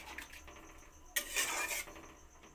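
Water is poured into a pan of fried pumpkin and potato curry, giving a short, bright splashing hiss that runs about half a second amid faint utensil clinks, with no talk.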